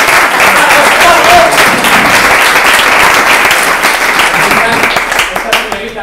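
A crowd at a farewell celebration claps loudly and continuously, a thick even wash of applause that thins slightly near the end.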